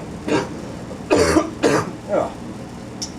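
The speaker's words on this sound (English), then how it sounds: "Good old cough." A man coughs several times during a live music gig at a pub, a few rough hacking bursts spread over a few seconds, close to the microphone against quiet room noise.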